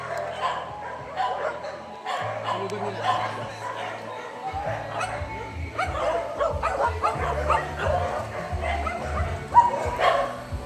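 Dogs yip and bark excitedly close by, mixed with whimpers, while people talk and laugh over them.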